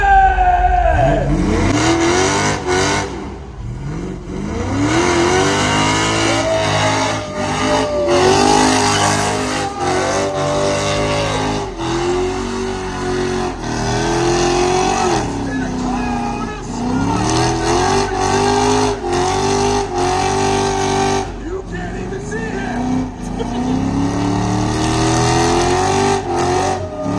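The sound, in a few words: car revving engine at a car show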